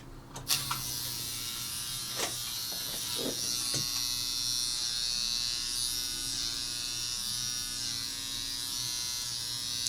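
Steady electric buzz of a Dermapen microneedling device from MDerma running through a skin treatment at 1 millimeter depth, continuous and fairly faint with a few small clicks early on.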